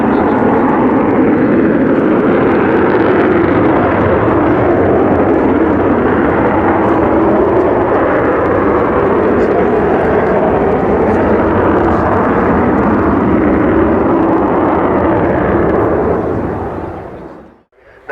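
The XH558 Avro Vulcan bomber flies past at Yeovilton Air Day 2014, a loud, continuous roaring jet-engine howl that holds steady for the whole pass and then cuts off abruptly at the end.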